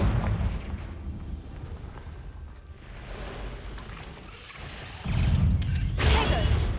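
Fiery Confringo blasting spell explosions in the Hogwarts Legacy video game, a sustained roaring rumble with a louder burst near the end, no speech.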